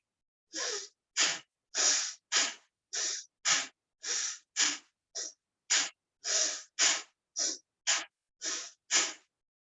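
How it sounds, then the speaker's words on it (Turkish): Bhastrika pranayama breathing: a run of about fifteen rapid, forceful nasal breaths, loud and close, each a sharp hissing burst with short gaps, steady and rhythmic with no talking. "hızlı ve çabuk bir şekilde burundan kuvvetli bir şekilde nefes alıp ver"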